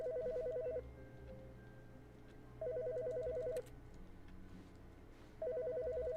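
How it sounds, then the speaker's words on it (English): Telephone ringing in The Stanley Parable video game: three bursts of an electronic double-tone ring separated by pauses, clear and alone over a faint background hum. "Is there a phone in here?"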